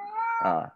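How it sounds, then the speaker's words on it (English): A cat meows loudly nearby, one drawn-out, strongly tonal cry that rises in the middle and fades out in under a second, with no talk over it. "Who's screaming at you in the background? Is it your cat?"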